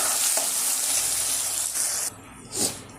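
Ginger-garlic paste being stirred into onions frying in a pan, giving a steady loud sizzle throughout with a brief stirring scrape near the end.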